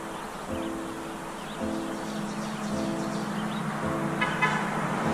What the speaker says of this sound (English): Here comes the first car for the morning.